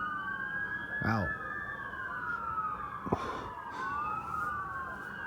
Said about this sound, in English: There's a fire station up the hill, so there's always sirens.